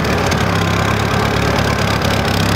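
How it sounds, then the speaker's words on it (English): A turbo Mazda Miata engine idling nearby, loud and steady with a low rhythmic pulse and a broad mechanical roar. "So right now it's running, idling."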